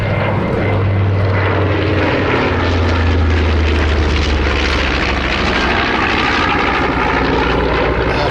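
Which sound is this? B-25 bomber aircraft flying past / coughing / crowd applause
B-25 bomber aircraft flying past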